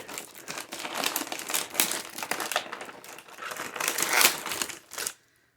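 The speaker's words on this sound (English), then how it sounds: "And I'm just going to cut into it." Shipping package tape and box being cut open and unpacked for a toy haul, producing continuous close crinkling, tearing and rustling of packing material that stops abruptly at the end, with no talk.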